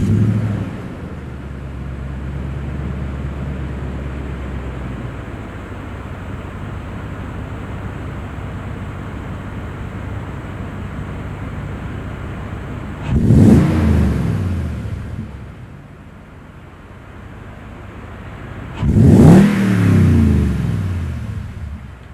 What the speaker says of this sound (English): So this is a true dual exhaust. It's not crazy loud, it's classy